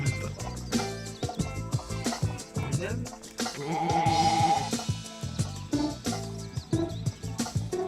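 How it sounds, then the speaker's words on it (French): Sheep bleat in the video game Une faim de loup, several short bleats scattered over bouncy game music with a lone sheep among them. "il y a un mouton tout seul"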